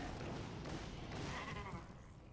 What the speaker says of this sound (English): I do like the sounds of the Goatmen.